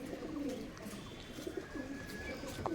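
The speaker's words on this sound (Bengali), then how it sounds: "এই হচ্ছে ফেস অফ বিউটি অনেক পুরনো পায়রা" An old Face of Beauty pigeon coos in a loft, several soft low throaty calls repeating close by over quiet background noise.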